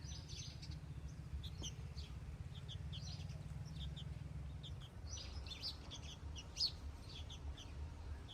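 Small birds chirp in quick, high bursts while feeding their young, faint and a little distant over a low background hum that drops partway through.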